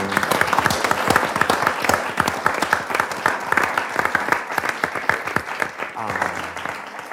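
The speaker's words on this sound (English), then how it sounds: "Everyone give Sarah a round of applause." A theatre audience at a literary festival play reading gives sustained, dense applause with many hands clapping close by, continuing steadily throughout.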